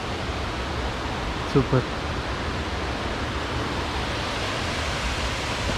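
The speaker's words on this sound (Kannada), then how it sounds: "ರೆಡೇಲಿ ಫಾಲ್ಸ್ ಬರ್ತದೆ ನೋಡಿ ಇದು" Steady broadband roar of a waterfall in a forest near Puttur, continuous and fairly close, with a couple of brief voice sounds over it.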